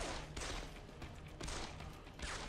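Gunshots in the video game Deus Ex: The Fall, heard as a few sharp, loud blasts within continuous dense noise, with no talk over them.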